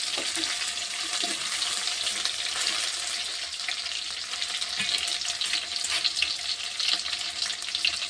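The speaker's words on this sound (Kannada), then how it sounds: "ಈಗ ಸಾಸಿವೆ ಮತ್ತು ಜೀರಿಗೆ ಹಾಕ್ಲಿಕತ್ತಿದ್ದೇವೆ ನೋಡ್ರಿ ಈ ಮೂರನ್ನು ಚೆಂದಾಗಿ ಎಣ್ಣೆಗ ಫ್ರೈ ಮಾಡಿಕೊಂಡು ಹೋಗಿ" Mustard seeds and cumin frying in hot oil for lemon chutney, a steady close sizzle with faint crackles and pops running throughout.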